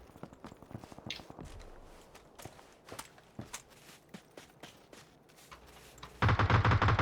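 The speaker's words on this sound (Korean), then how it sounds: "야 내부 발소리" Footsteps move inside a building in the video game PUBG as a run of faint, evenly spaced thuds. A loud, dense burst of noise cuts in at the end.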